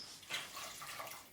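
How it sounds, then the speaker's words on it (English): Water pouring steadily into a pot of leeks and potatoes for a French leek and potato soup, a continuous close splashing stream lasting throughout at moderate loudness with no talking. "I'm going to put a little bit more water in because I want to make sure they are in fact covered"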